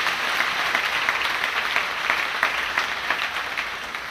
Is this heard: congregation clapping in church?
yes